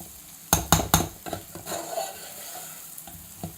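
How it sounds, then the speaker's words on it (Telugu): Eggplant pieces fry in hot oil while a ladle stirs them, with a few sharp scraping clacks early on, then a steady soft sizzle and another scrape near the end. "ఈ ముక్కలు కొద్దిగా ఇట్లా ఆయిల్లో ఫ్రై అవ్వాలి. నేను కలుపుతున్న గరిటెలోకి దూరిపోయింది వంకాయ."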